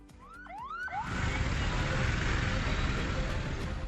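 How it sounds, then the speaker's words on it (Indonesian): An ambulance siren wails in Desa Tambung village, Pamekasan, East Java, rising and falling in a few quick sweeps before a loud, steady broadband roar of traffic and wind takes over and holds to the end. "Suara ambulans memecah keheningan Desa Tambung"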